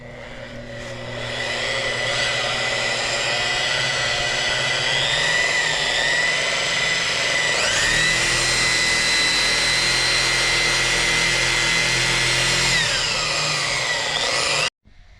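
A power polisher spins at about 3,500 RPM against the nose of a mini jet boat, giving a steady, loud motor whine with a high tonal hum that holds for about fourteen seconds before cutting off abruptly.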